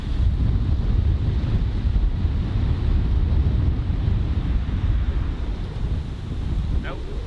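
Strong, cold wind at a cliff edge at Pictured Rocks, buffeting the microphone as a loud, continuous low rumble that swells and eases for several seconds, with a brief high squeak near the end.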